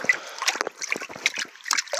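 Water sloshing and splashing as the sheep's and chickens' water container is rinsed out on a rainy farm day, close irregular bursts of splatter and trickling.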